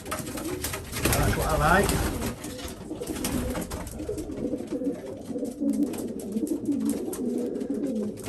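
Racing pigeons, young cocks, cooing and scuffling over nest boxes in a loft, repeated close throaty coos with flapping and shuffling, someone briefly talking over them.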